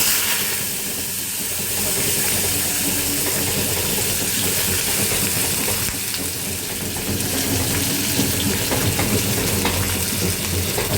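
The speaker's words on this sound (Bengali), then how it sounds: "এখন প্রথমে আলু পেঁয়াজগুলো সবগুলো ভেজে নেব।" Potatoes and onions fry in a pan with a loud, continuous close sizzle and hiss, with occasional stirring scrapes and no talking.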